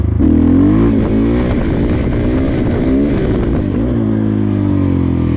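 A loud motorcycle engine runs close up in second gear, its pitch rising and dipping as the throttle is worked, steady and continuous.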